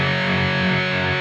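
Electric guitar played through an ENGL Steve Morse Signature 20 tube amp: a sustained, heavily distorted chord that rings loud and steady, with no talk over it.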